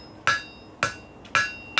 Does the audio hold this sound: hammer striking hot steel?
yes